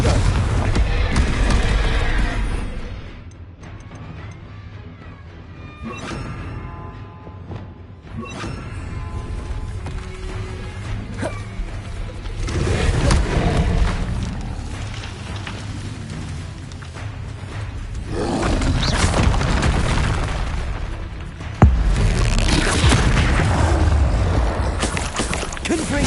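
Confringo blasting spells going off in a Hogwarts game, with deep booming explosions recurring over a long stretch of dense crashing combat rumble.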